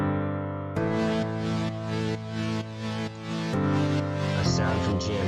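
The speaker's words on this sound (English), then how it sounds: "A Keyzone classic piano, but FL keys will do just fine." Sustained piano chords from a Keyzone classic piano patch in an electronic music production, ringing steadily with a change of chord roughly every second and brighter notes entering near the end, with no voices.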